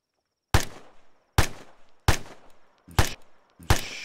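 Five sharp, loud gunshots in the Arma III military game, each a distinct crack with a short decaying tail, fired at a fairly even pace roughly a second apart with no talk.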